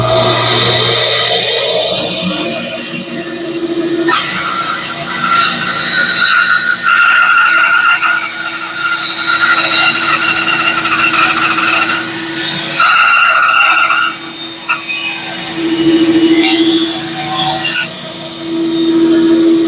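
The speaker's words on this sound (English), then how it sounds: "So we're going to cut this on the bandsaw." A bandsaw cuts through a wood blank in a loud, steady whine that runs almost continuously, with shifts in pitch as the blade bites and brief dips between passes.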